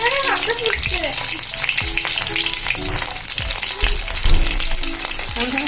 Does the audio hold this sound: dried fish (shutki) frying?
yes